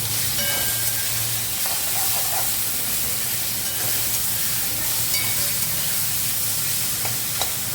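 Spices with half a spoon of cumin powder sauté in a hot pan, giving a steady close sizzle and hiss with faint scraping and clinks of stirring throughout.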